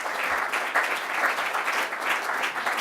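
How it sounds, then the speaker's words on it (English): Applause at the Cerebral Palsy Football World Championships draw, a moderately distant crowd clapping steadily with slight swells throughout, no voices on top. "Round of applause for David"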